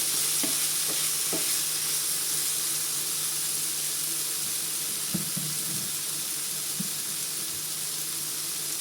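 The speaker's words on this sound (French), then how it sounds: "Et on va commencer à verser notre lait de coco. Et après on va ralentir le feu pour que ça mijote gentiment." Chicken curry with coconut milk in a pan, a steady soft sizzling hiss with a few scattered clinks and stirring knocks from a utensil.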